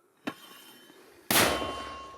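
A sharp metallic clank followed a moment later by a loud, booming blast that rings out and slowly decays, a mortar round being fired from a trench position in Zaporizhzhia.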